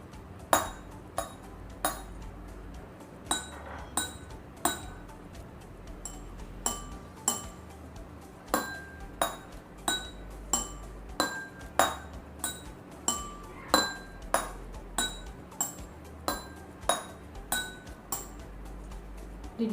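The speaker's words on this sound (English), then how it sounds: "with the use of spoon we will try to listen the different sounds of these glasses" A spoon taps a row of glasses filled with different water levels, from empty upward, one after another, each strike ringing clearly at a different pitch, steady and evenly paced.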